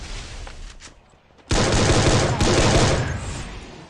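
Loud rapid gunfire bursts out suddenly in a shooting video game, a dense automatic volley of close cracks that runs continuously for over two seconds after a quieter stretch with a few distant shots.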